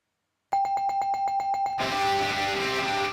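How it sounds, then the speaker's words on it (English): A bell sound effect: a rapid series of about nine bright metallic rings, then a sustained ringing tone with noisy hiss, loud and alone without any voices. "I'm going to give it the bell."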